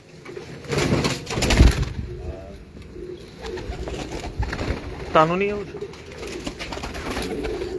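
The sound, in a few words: pigeons cooing on a rooftop in Multan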